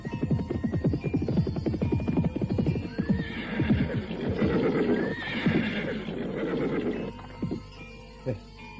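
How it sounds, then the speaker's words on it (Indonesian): A horse whinnies loudly and repeatedly while hooves clip-clop in a steady rhythm, staged as a sound effect in an Indonesian radio drama, close and continuous through the scene. "Siapa penunggang kuda yang berhenti di depan warung Kiselo itu?"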